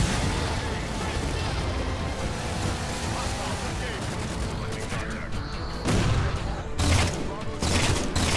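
Gunfire and explosions from the video game Halo 4 give a dense, loud wash of roaring noise with several sharp, heavy blasts near the end, while a voice talks over the action.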